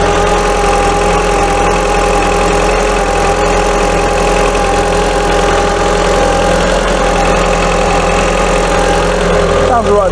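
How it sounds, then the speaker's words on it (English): An Audi TT engine idles steadily, recorded close to the engine bay, giving a constant loud hum and drone with a faint knocking texture throughout. "let's put this microphone near the engine, let's see how it sounds"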